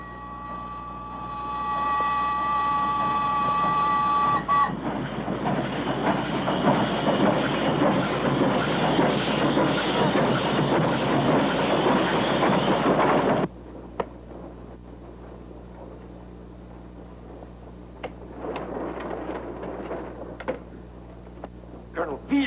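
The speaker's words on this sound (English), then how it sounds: "But, sir, Villa's train is on our track." A steam train runs on a railroad track in a 1972 film about Pancho Villa: a loud, dense chugging rumble and hiss that swells, then cuts off abruptly. Faint clanks and a voice follow against a quiet background.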